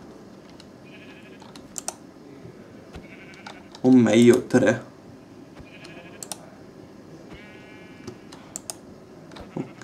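A sheep bleats in the video game Minecraft, one loud, near, wavering call of about a second with a short second burst, over faint keyboard typing while someone speaks Italian.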